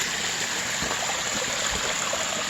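Steady broadband rush of water spilling over a garden waterfall, a continuous close flowing sound with faint gurgles and no talking.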